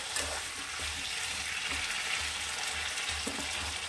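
Pointed gourd being stirred and fried in a pan for potoler malaikari, a steady sizzle with regular scraping strokes of the spatula, close by and without speech.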